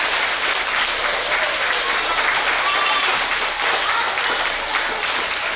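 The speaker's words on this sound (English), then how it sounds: "Give her a applause." An audience at a school assembly applauds, giving steady, dense clapping from many hands throughout, with some voices mixed into the noise.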